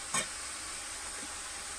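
Ground spice masala of cumin and coriander powder frying in oil in a village kitchen gives a steady close hiss and sizzle, with a short scraping stir near the start.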